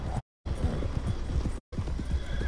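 Horse hooves gallop in rhythmic clip-clop beats across the ground in Red Dead Redemption 2, a fast, steady pounding close by, cut twice by brief dropouts to silence.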